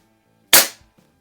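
A single sharp shot from an AR2078 air rifle firing a Meisterkugeln pellet, loud and close, with a quick decay and faint clicks afterward.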